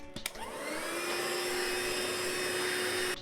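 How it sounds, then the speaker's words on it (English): A vacuum cleaner starts after a couple of clicks, its motor whine rising and then holding a loud, steady, close drone. "I'm gonna have to vacuum this shit up."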